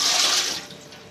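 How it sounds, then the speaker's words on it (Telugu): Water pours into a pan on the stove while rice semolina vadiyalu are being made, a steady close rushing splash that tapers off after about half a second. "ఇప్పుడు వాటర్ వేసుకుందాము."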